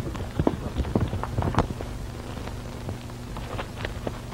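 Horse hooves clip-clop at a steady, moderate pace in an old Western setting, a horse carrying double riders, with irregular knocking hits that fade slightly toward the end over a constant low background hum.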